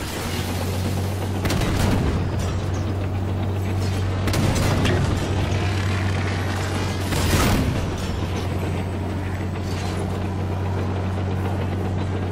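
Repeated booming blasts in Halo 5: Guardians on Xbox One, three loud bursts roughly every three seconds over a constant low engine drone, with battle noise throughout and no talk.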